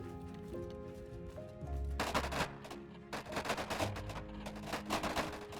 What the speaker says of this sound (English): They're shooting all the way from here.